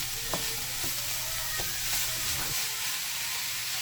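Ground beef with ginger and garlic paste stir-fries in a pan, a dense continuous sizzle and hiss broken by a few soft stirring scrapes, close and steady throughout.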